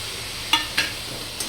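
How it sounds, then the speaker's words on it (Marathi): Cashews and garlic cloves sautéing in a pan make a close, even sizzle, broken by a few sharp clinks of stirring. "त्यामध्ये 5-6 काजू, त्याचबरोबर 5-6 लसणाच्या पाकळ्या आणि याला छान प्रकारे परतून घ्यायचं आहे"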